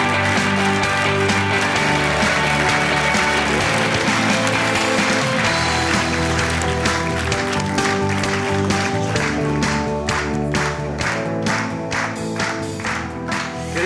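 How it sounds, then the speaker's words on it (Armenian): A studio audience applauds loudly and continuously for several seconds, the clapping dense at first and then thinning into sharper, more separate claps near the end. "եկեք շատ բարձր ծափարություններով այստեղ հրավիրենք"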